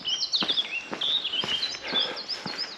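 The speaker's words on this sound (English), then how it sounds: "That's a blackcap." A blackcap sings a bright, rapid, warbling song nearby in the Hambleton Hills on the edge of the North York Moors. Regular footsteps crunch underneath throughout.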